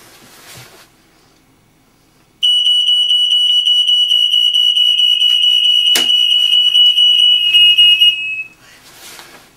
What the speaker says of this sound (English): I'm going to activate the smoke detectors.